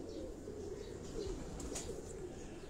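Domestic pigeon of a prized breed cooing on a Karachi rooftop loft, soft low murmuring coos steady and close over a faint background hum.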